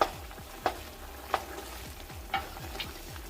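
Beef cubes frying in a pot for Jamaican stew peas, a soft steady sizzle broken by a few sharp clanks or stirs against the pot, close up with no talking.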